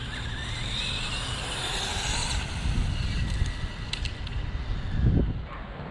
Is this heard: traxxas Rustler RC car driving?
yes